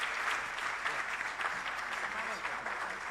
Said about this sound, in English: a round of applause for the Honorable Minister